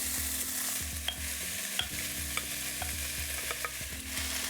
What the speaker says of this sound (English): First, I'm going to add the chopped up onion and let it sweat for about a minute in medium-high heat with the sauce. Now we'll add the octopus.